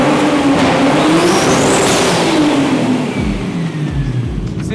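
A Nissan R34 GTR with a built engine and big turbo fires up and revs hard nearby, its loud roar rising and falling in strong bursts with no talking.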